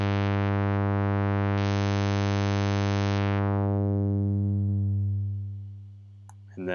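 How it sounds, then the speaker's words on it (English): A sustained saw wave from Ableton Live 9's Operator synth runs through a resonant filter, a steady buzzy drone whose brightness drops partway through before it fades out at the end. "So let's get a saw wave here so we've got a little bit more complex tone to work with."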